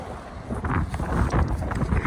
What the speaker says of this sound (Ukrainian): Вітер дме нереальний просто